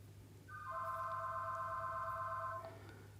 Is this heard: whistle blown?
no